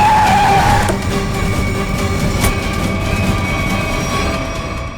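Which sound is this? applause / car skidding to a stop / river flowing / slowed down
car skidding to a stop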